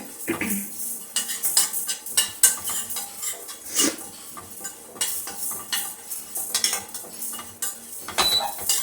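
Cumin seeds, with fenugreek, dry-roasting on a low flame in a home kitchen pan for a traditional baby food recipe. A spoon stirs them with frequent close clinks and scrapes against the metal.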